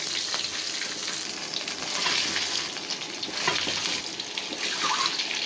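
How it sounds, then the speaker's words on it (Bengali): Eggs fry in oil with salt and ground turmeric, a loud, continuous close crackle and sizzle with bursts of spattering and occasional stirring scrapes, no voices. "ডিমগুলো এখানে লাল লাল করে ভাজা নেব"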